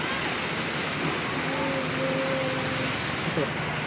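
Steady broadband hiss of rain falling during local flooding, loud and continuous across the whole stretch, with faint voices and tonal sounds briefly in the background.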